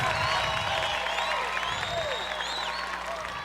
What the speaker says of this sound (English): I'm really throwing the applause on here like parsley for real